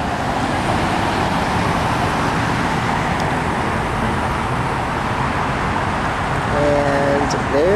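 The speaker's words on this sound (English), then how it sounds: "And there the truck goes" A truck pulls away on a road amid steady, loud traffic rumble, its engine blending into the continuous roadway noise, with a brief tonal toot near the end.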